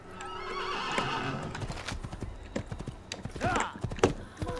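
Hoofbeats clip-clop steadily while a horse neighs and whinnies in a video game, the galloping rhythm continuous and close, with brief vocal whinny bursts near the end.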